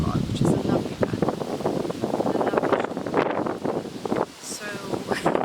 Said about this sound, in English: the wind's going to catch it